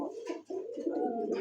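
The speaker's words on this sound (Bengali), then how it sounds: "আসলেই পুতুল, দুই জোড়া কবুতরের পার ফেদারগুলো দেখেন" Pigeons cooing steadily, fancy breeds kept for sale, a close, continuous throaty warble with a brief pause partway through, no talk.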